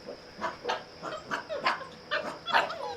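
A dog barks repeatedly in short, evenly spaced yips, about eight or nine barks over a few seconds, fairly close and moderately loud.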